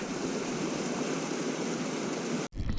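Water pours into Barney Lake along the Duck Pass Trail near Mammoth, a steady broadband rush heard up close and unbroken for most of the span, cutting out for an instant near the end before resuming.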